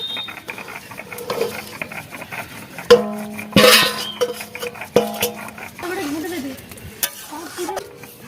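Pointed gourd goes into a hot pan for a Bengali potol jhal, bringing loud metallic clanks of a utensil against the pan and bursts of close sizzling that fade between knocks.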